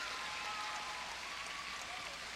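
A crowd applauds the Ohio State University B team's routine at the 2002 US Synchronized Swimming Nationals, a steady dense patter of many hands heard from a distance and fairly quiet.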